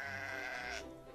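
A sheep or lamb in a video game gives a single drawn-out, wavering bleat, faint and somewhat distant, fading away after about a second.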